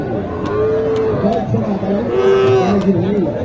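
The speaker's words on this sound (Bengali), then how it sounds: "একটা দেশি গরু।" A local desi bull moos loudly at the Matajihat cattle market in Naogaon, two drawn-out calls close by against a steady hum of market crowd noise.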